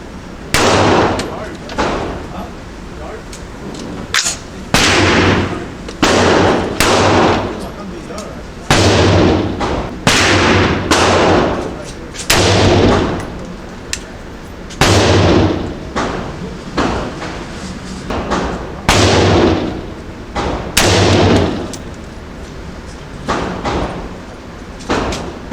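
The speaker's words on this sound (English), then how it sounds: "So let's take a couple shots and see how close it is." Rifle shots from a gun fitted with a Pinty 4 in 1 scope ring out at a range, a dozen or so sharp loud reports spaced a second or two apart, each followed by a short decaying echo.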